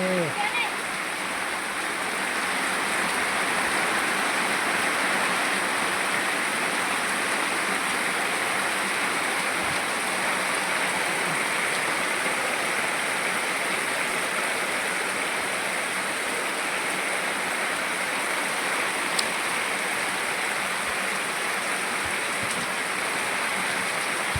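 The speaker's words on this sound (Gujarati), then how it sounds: "કેવો કેવો વરસાદ થાય" Heavy monsoon rain pours steadily over Jamla village in Chhota Udepur district, a dense, continuous wash of falling water and runoff that stays loud and unbroken throughout.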